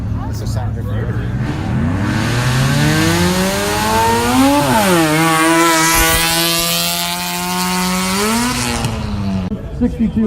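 1987 Mazda RX-7 rotary engine revving hard: a buzzy, high-pitched whine sweeping steadily up to a sustained peak and then easing back down, loud and close, with people talking faintly underneath.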